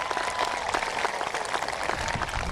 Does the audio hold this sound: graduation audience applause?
yes